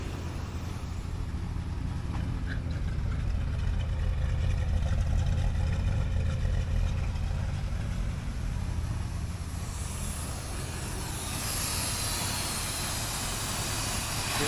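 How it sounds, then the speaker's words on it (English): A 1964 IH Travelall engine idles high with a steady, continuous rumble and even drone at close range, alone with no talk. "Idling high, but she's idling."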